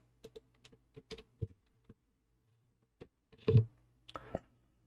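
Keys on a computer keyboard are tapped while text is typed into a Word document: sparse, irregular clicks in short bursts with pauses, close and fairly quiet, ending in a slightly louder cluster.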